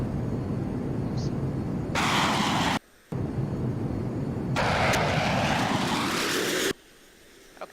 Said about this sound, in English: But here's what the flyby sounds like